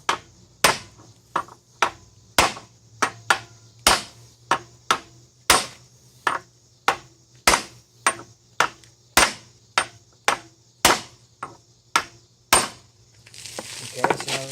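Repeated hammer blows drive a 1 5/8 inch socket into a Chevy K1500 truck's hub during a lift kit install, about twenty sharp metallic strikes in a steady rhythm, loud and close, with no talk.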